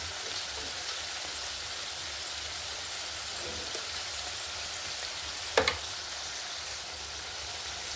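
Chopped onions with green chilies and salt frying in a pan give a soft, even sizzle throughout, broken once by a brief clink of a utensil near the end.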